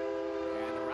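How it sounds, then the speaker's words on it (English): A train rolling past the right field wall at a minor-league baseball park, its horn sounding a sustained, steady chord in the distance. "Train rolls by"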